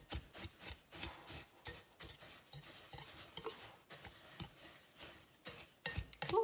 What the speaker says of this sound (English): And now we're just going to give all that a good blend. And I'm using my pastry blender.